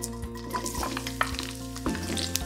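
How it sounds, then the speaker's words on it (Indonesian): Bird's eye chillies and sliced garlic frying in hot oil for an ayam gepuk sambal, a steady close sizzle with occasional stirring scrapes and spatters, no voices. "Goreng pula cili padi dan hirisan bawang putih."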